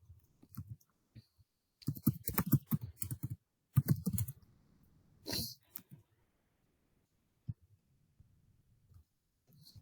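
Someone types a short command into the Windows Run box on a computer keyboard, with a few bursts of quick, close key clicks and pauses between them in a quiet room.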